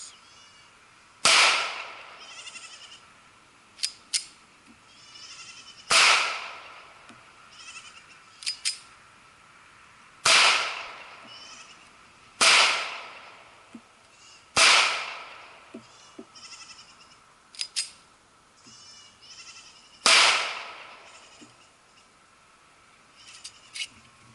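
Sig Sauer 1911 pistol firing single gunshots: five or six loud, sharp cracks spaced several seconds apart, each with a short echoing tail, plus a few fainter clicks and knocks between them, with no talking.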